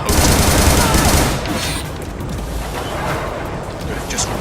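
Video game shotgun fire blasts out in a loud, dense burst of heavy shots at the start, then the gunfire tails off into rumbling, scattered combat noise.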